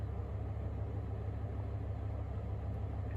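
A Dodge Ram truck engine idles steadily and close by, a constant low rumble with no variation and no voices.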